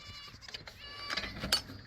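A goat bleats a few times up close, short wavering cries mixed with rustling and scuffling.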